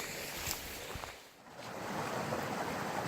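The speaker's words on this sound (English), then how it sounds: "you can hear the river. There's a river just down through there" A mountain river rushes steadily nearby, a broad continuous watery hiss with slight swells and no voices.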